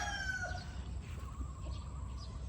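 Chickens and game fowl stags kept in a yard cluck and crow, a rooster's drawn-out crow at the start followed by scattered softer clucks over a low background rumble.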